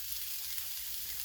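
Maple bacon and other food stirred in oil on a Blackstone griddle, a constant bright hiss of frying that stays even and fairly faint for the whole moment.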